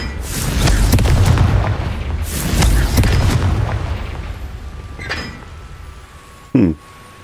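Confringo fire spell blasting in the video game Hogwarts Legacy, a loud booming explosion with rumbling crackles that swell and fade, followed by a few sharper bursts and a short hard impact near the end.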